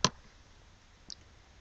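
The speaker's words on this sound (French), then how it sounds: "Donc, je vais cliquer." A single crisp computer mouse click on a knitting project website, sharp and close, followed about a second later by a fainter second click, otherwise quiet.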